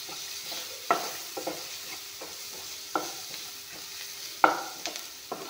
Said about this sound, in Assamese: বিলাহীখিনি অলপমান ভাজি ল'ম।